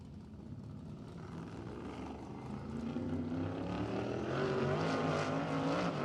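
A race car roars around Anderson Speedway during Little 500 pole day qualifying, its deep throaty engine swelling steadily louder as it approaches, a continuous rumbling drone with rising pitch and no talk over it.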